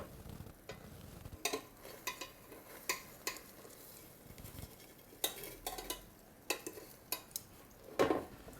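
Chicken pieces in an air fryer basket being turned over to the other side after 20 minutes of cooking: a run of light clinks, taps and scrapes from tongs or utensils against the basket, with no talking.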